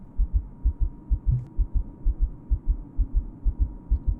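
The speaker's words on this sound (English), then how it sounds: "Do you hear the heartbeat?" Heartbeat effect in the horror video game Without A Dawn: a steady, low, muffled double-thump pulse repeating about twice a second over a faint hum, heard alone without talk.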